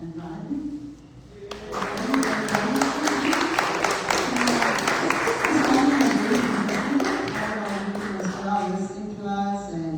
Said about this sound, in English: And I want to give a big hand and applause to Warren and Rodney.